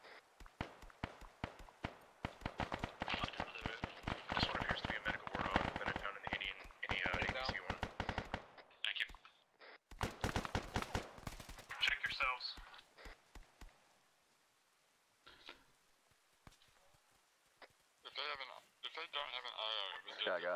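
Dense rattling machine-gun fire from the Arma 3 military game bursts in rapid volleys, then thins out into scattered shots and radio-style chatter, with voices talking over parts of it.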